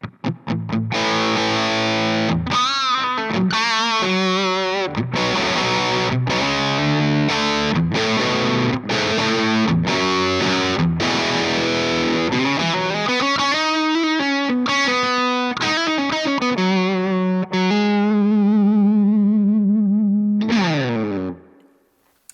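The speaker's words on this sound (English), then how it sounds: "this is where you're going to get most of the distortion from the pedal itself" An electric guitar is played through a Laney Lionheart Loudpedal with its distortion driving the tone, heard as loud, sustained, saturated chords and notes in a choppy rhythm, then a final chord that rings out and cuts off.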